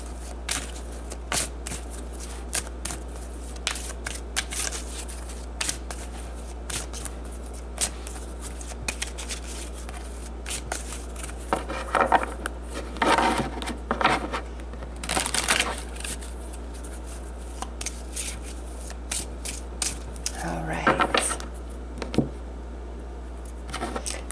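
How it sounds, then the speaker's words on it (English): Tarot cards being shuffled and drawn, with soft papery riffles and flicks that come in irregular bursts, growing busier and louder toward the middle and end, heard close and with no speech. "let's draw some more cards to get more information about that"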